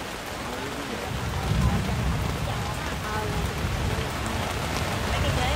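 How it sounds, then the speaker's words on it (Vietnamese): Heavy rain pours steadily during a strong windy storm, a dense close roar of drops on surfaces that holds level throughout, with voices faintly mixed in. "hiện tại là vẫn còn mưa nha"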